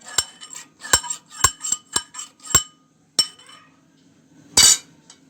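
A metal spoon stirs turmeric, chili powder and salt with water in a bowl, giving a series of sharp clinks and taps against the bowl, irregular and close, with a final louder scrape.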